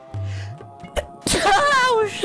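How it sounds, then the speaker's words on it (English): A cartoonish sneeze from a character in Zelda: Spirit Tracks, a sharp burst followed by a rising, wavering tonal cry over quiet game music, close and fairly loud. "Big sneeze."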